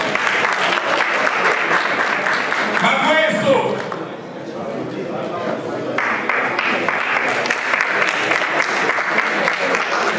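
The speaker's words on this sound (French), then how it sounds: "Sous vos applaudissements, s'il vous plaît." Audience applause for named participants at an event, a steady wash of clapping that dips briefly in the middle while a voice speaks, then resumes at full strength.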